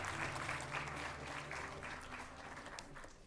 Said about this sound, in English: please let's have a round of applause for the Adani Foundation